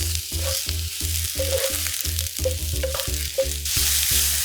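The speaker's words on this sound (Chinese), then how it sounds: "我们先煸炒菌菇呢，就是这样可以把菌菇的香味完全炒出来" Mushrooms stir-fried in a wok, a steady sizzle beneath a rapid, regular pulsing rumble, with light spatula scrapes, near and fairly loud, without any talking.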